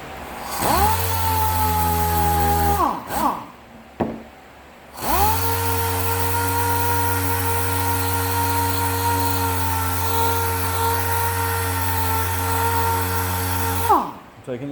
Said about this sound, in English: Taking this down to the bare plastic. This is 180 grit.